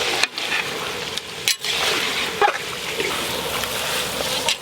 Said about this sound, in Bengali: এবার চেরা কাঁচা লঙ্কা দিয়ে আবার নাড়বো